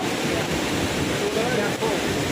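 A waterfall, Tad Yueang in Laos, roars steadily nearby, a dense, continuous rush of falling water with no breaks.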